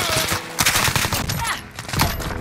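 Rapid bursts of automatic gunfire crackle in a first-person shooter match, sharp overlapping shots clustered in quick volleys with a voice talking briefly among them.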